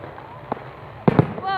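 Fireworks burst outdoors on bonfire night, a faint pop followed by two sharp, close cracks in quick succession, then a rising whistle, with people's voices around them.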